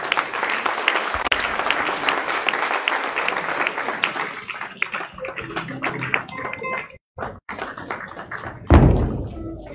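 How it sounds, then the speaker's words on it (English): Listeners applaud a professor after a lecture on democracy and political communication. The lively clapping fades out after about four seconds, giving way to quiet room noise, scattered knocks and a heavy thud near the end. "A round of applause for Professor Lai Osho."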